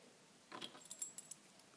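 Keys for a solid brass Lockwood 232AB 30mm padlock jangle briefly and close by, a few bright metallic clinks and rattles in about a second, with quiet around them.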